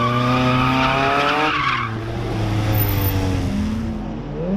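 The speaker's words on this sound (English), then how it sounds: "as you can hear there's drifting already" Tires squeal loudly as cars drift at a motorsport park, including an MX5, the screech sliding in pitch over a revving engine, then a second squeal rises further off.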